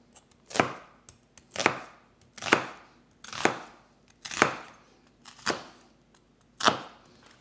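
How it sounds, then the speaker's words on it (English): A knife chops peppers and onions on a cutting board in a kitchen, landing in seven distinct, evenly spaced strokes that come through crisp and close. "we have our peppers and our onions chopped"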